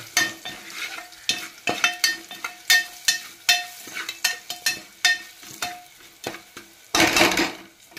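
Turmeric and red chilli powder being stirred into a hot pan for dal dhokli, with repeated scraping strokes of a spoon against the pan over a soft sizzle, ending in a louder burst of frying.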